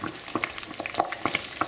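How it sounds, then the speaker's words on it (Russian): Sauce coming to a boil inside a sealed cooking bag with mussels, giving a close, busy crackle of small bubbling pops and faint sizzling, steady and fairly loud with no talking. "как закипает у меня сам соус, начинает шевелиться внутри пакета"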